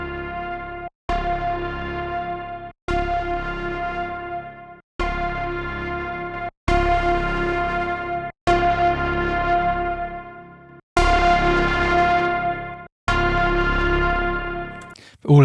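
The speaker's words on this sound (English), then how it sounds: "So let's put a distortion on there. This one is the one I've been liking recently, called Fire. So let's just crank that up and see what it sounds like." Synth notes pushed through the Fire distortion plugin, cranked up for a gritty dance-music tone: seven sustained, harmonically rich chords, each about two seconds long with short gaps between them, loud and alone with no voices.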